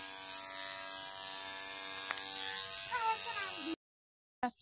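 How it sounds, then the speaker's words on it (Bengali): An electric hair clipper buzzes steadily as it cuts hair on a shaved head, a close continuous droning hum with a brief click, then a sudden stop and a short burst of sound. "এই দেখো চুল কাটছি আমি টাকলু মাথায় মেশিন দিয়ে"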